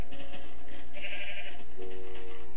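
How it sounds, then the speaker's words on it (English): A sheep in the Minecraft video game bleats in short wavering cries over a constant low game hum, clear and close with no talk. "why is that sheep getting in my way?"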